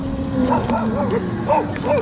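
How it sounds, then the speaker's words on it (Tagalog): Several dogs yip and bark in short, rising calls at a roadside while an electric trike's motor whines steadily underneath, the barks scattered across two seconds at moderate distance. "Ay, mga aso, guys."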